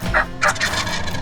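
An Osceola wild turkey gobbles outdoors in Florida, two strong rattling gobble calls close together, fairly loud and with no talking over them.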